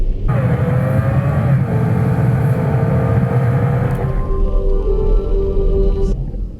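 A car with downhill speed regulation engaged descends a steep 25% gradient hill in the Derwent Valley, Peak District: a steady, loud engine and road rumble with whining mechanical tones that shift pitch partway through and continue throughout.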